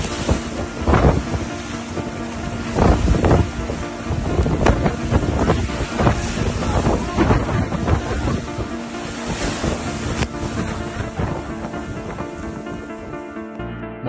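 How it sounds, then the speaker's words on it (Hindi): Strong wind and heavy rain from Cyclone Biparjoy lash Gujarat, heard as loud, continuous roaring gusts and buffeting against the microphone, with surging peaks and a constant heavy wash. "सौराष्ट्र और कच्छ में तेज हवाओं के साथ जोरदार बारिश हो रही है।"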